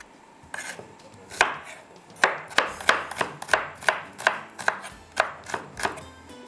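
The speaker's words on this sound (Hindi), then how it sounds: "प्याज को हमने कट कर लिया" Onions chopped with a knife on a board, a run of about a dozen sharp, evenly spaced cuts that start sparse and settle into a steady rhythm, close and crisp with no talking.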